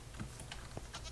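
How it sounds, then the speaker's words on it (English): Goats in a video game give a few faint, short bleats in quick succession, heard alone at low volume. "Here is my goats. These are my favorite."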